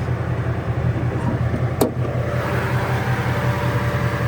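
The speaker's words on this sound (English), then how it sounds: "Motor sounds pretty healthy." A 2013 Ford Mustang GT V8 engine idling steadily at close range, a low continuous rumble with a faint brief click partway through.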